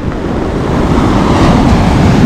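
Rough sea surf rolling onto the shore along the Lazarevskoye embankment near Sochi on a cool, rainy day, a steady loud wash of breaking waves with wind buffeting the microphone throughout, no voices.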